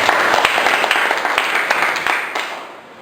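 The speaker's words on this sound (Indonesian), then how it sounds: "kita beri aplaus untuk kelompok 1" Classroom applause for a student group after their presentation: a room of people clapping steadily and fairly close, with sharp individual claps standing out before the sound fades away at the end.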